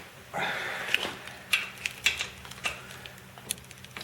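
A torque wrench is clicking on the rocker box bolts of a Harley Sportster XL883L, giving a series of sharp ratcheting clicks and snaps at an uneven pace, close up, with no talking.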